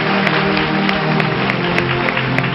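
Dense applause from a church congregation, many hands clapping at once in a loud, steady wash of noise.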